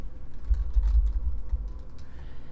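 Someone types on a computer keyboard to enter a server name in Tabletop Simulator, a quick run of soft, close key taps over a low background hum, with no voices.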